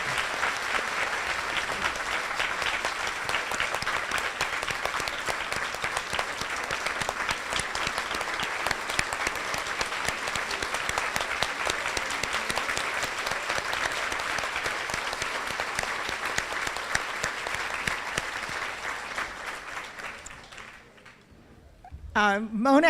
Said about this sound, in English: So I really wish that we could all give her a huge round of applause